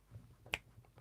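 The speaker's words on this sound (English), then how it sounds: "I can't snap my fingers very quickly" A single crisp finger snap rings out close and sharp in a quiet room, standing alone against a faint low background murmur.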